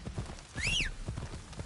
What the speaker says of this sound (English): Go on, horse, let's go.